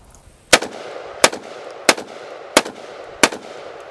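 A Kalashnikov USA TS-12 12 gauge shotgun firing buckshot at a range, five loud, sharp reports evenly spaced about two-thirds of a second apart, each with a brief echoing tail.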